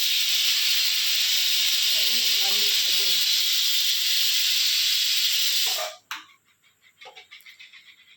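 A kitchen pressure cooker whistle blasts a long, loud, steady hiss of steam that cuts off abruptly, followed by short sputtering puffs and clicks.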